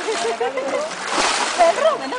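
Water splashes and sloshes close by as someone bathes in the Periyar river, brief splatters mixed with voices talking over them.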